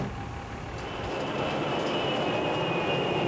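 A C-17A Globemaster III military transport aircraft gives a loud, dense engine roar with a faint whine, swelling slightly and holding steady for a few seconds with no voices.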